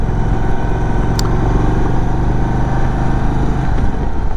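An Indian Sport Chief cruiser motorcycle with a 116 cubic inch engine rumbles loudly and steadily at close range, a deep continuous engine drone throughout with no voices over it.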